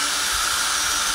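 A power drill boring a hole, a steady close high whirring hiss that holds unbroken throughout.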